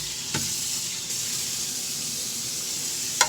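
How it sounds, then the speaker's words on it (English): Water from a tap runs steadily through parts of a Tribest Slowstar juicer, a continuous hissing rinse with a couple of brief clatters. "Just kind of rinse some water down and through."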